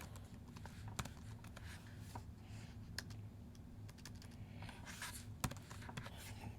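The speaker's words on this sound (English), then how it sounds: "I'm trying to type too fast" Fast typing on a computer keyboard, quiet and close, with irregular bursts of clicking keystrokes and a louder key tap now and then against a low background hum.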